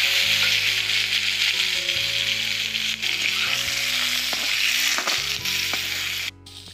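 Stuffed vegetable frying in hot oil in a kadai, a steady, close, loud sizzle and crackle running throughout with light stirring knocks.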